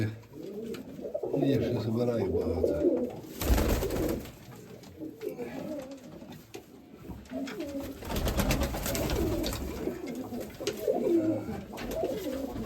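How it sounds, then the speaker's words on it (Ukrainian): Mykolaiv pigeons kept by an owner in Kamianske coo in repeated soft throaty phrases, close by, with someone talking over parts of the calling. "Це красненька голубочка."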